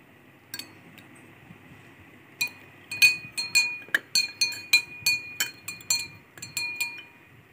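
A spoon stirs salt into water in a glass, clinking against the sides in a quick run of bright, ringing taps after one early single clink, close and clear with no talk.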